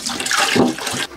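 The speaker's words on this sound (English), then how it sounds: "Now what I do is put 3 litres of water in there." Water poured from a container into an old metal bread bin for melting beeswax, a short gushing splash that swells and then cuts off abruptly, close and fairly loud.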